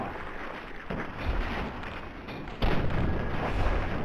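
A booming explosion in the video game Fallout 3 bursts in over a low, rumbling ambient backdrop and holds as a loud roar for a few seconds.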